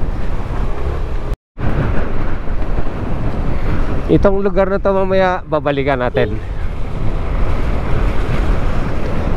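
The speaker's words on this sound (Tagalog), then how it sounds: "Lakas-lakas na yung alon" Strong waves and gusting wind roar during Typhoon Tino, a loud continuous wash of surf and wind buffeting the microphone, with someone speaking over it and a brief dropout early on.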